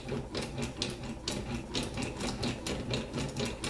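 A chisel is pushed and pulled over ceramic sharpening stones, making a steady, rhythmic rasping scrape that repeats in quick even strokes, fairly quiet and close with no talking.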